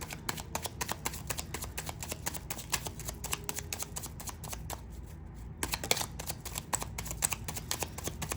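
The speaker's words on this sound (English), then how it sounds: "Let me shuffle these real quick" Rapid riffling of tarot cards being shuffled close up, a busy run of soft papery flicks with a brief pause midway, no voices.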